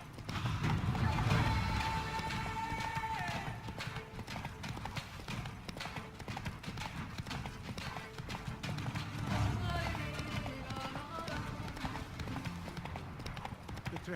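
Horse galloping in The Witcher 3: Blood and Wine, a steady rapid clip-clop of hooves running continuously, with someone talking over it and occasional whinnies.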